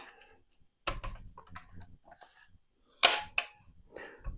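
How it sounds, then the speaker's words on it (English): Sharp metallic clicks and clacks as the magazine is pulled from a Pioneer Arms 5.56 underfolder rifle and its stock is snapped open, close and distinct against a quiet background. "Get this mag out of our way. Get this folder open."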